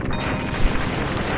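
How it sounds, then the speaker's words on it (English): Explosions rumble continuously as the facility blows up in the Mega Man X2 video game, a dense, loud low roar with overlapping booms and one sharper burst near the middle, with no voices. "The whole facility's going up in smoke and explosions!"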